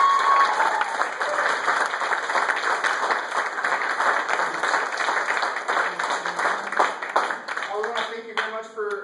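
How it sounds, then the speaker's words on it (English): Steady, full audience applause for a high school jazz band at a concert, sustained and fairly near for most of the stretch before tapering, with a voice and tones entering at the end. "So please, one more big round of applause."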